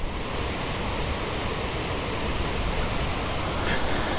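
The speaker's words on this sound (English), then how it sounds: "An artesian well." Water from an artesian well in Prattville, Alabama pours and splashes in a steady, full rushing wash, constant and fairly close throughout with no break or voices.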